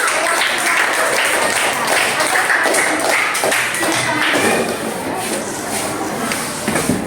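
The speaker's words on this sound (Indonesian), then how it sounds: "Tepuk tangan untuk kelompok 5." Students in a classroom applaud group 5 after its presentation, a dense, even patter of many hands that runs for several seconds and eases slightly near the end.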